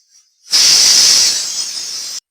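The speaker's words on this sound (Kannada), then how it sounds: "ಕುಕ್ಕರ್ ಕೂಗುತ್ತೆ," A pressure cooker cooking pulao lets out one loud, sharp hissing whistle of steam that holds for nearly two seconds and then stops abruptly.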